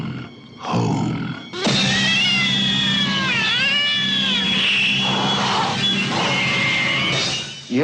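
A cat meowing and caterwauling loudly in a horror trailer, with long wavering, rising and falling yowls after a brief opening cry, close and dominant.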